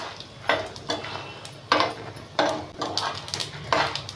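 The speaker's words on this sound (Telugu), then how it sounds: "ఇట్లా సన్నగా వేయించుకోవాలి, సన్న సెగ పెట్టుకొని" Seeds being roasted in a pan over a low flame, stirred so they scrape and rattle in short bursts roughly every second, with a soft, faint sizzle underneath.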